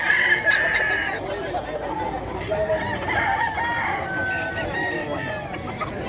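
Sweater Gilmore gamefowl roosters crowing amid a busy pet market, several calls rising over constant crowd chatter and clucking, with people talking throughout.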